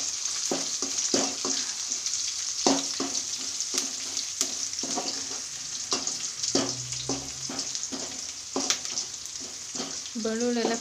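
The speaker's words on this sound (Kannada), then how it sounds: "ಬೆಳ್ಳುಳ್ಳಿ ಎಲ್ಲ ಫ್ರೈ ಆಗಿ ಸ್ವಲ್ಪ ಬ್ರೌನ್ ಕಲರ್ ಆಗಬೇಕು. ಅಲ್ಲಿ ತನಕ ಲೋ ಫ್ಲೇಮಲ್ಲೇ ಉರಿತಾ ಇದೆ" Garlic and curry leaves frying slowly on a low flame while beans are cooked, with a steady crackling sizzle and repeated spatula taps and scrapes at a close, moderate level, and a little background voice.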